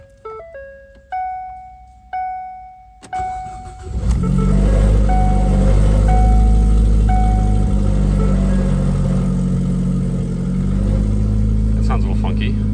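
Freshly replaced engine in a 2012 Ford Focus 5-speed cranks and catches on the first try, then settles into a loud, steady idle, after a few short rising warning chimes from the dashboard; a voice is heard briefly.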